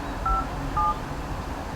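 A telephone number being dialed on a keypad: two short, clear dial-tone beeps close by, spaced about half a second apart over a quiet hum.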